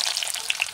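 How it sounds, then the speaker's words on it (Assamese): Onions with dried chillies fry in hot oil, giving a short burst of close, hissing sizzle with a couple of sharp spits. "ইয়াত পিঁয়াজখিনি ভাজি লৈছোঁ।"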